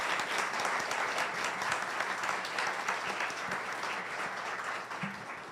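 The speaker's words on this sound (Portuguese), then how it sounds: "vamos então agradecer com uma salva de palmas." Sustained applause from an audience at an inaugural lecture for accounting and economics courses, dense and steady throughout at moderate distance with no talk over it.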